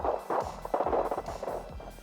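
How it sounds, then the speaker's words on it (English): Automatic gunfire trades back and forth in a close-range firefight, rapid overlapping bursts of shots crackling loudly for about two seconds with no voices. "you can hear the sound of automatic gunfire exchange. Something is shooting, and then something is shooting back."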